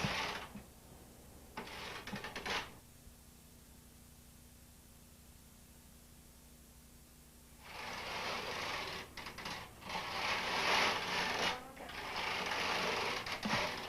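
A knitting machine carriage is pushed back and forth across the needle bed, knitting rows of waste yarn in short, close raspy sweeps separated by quiet pauses.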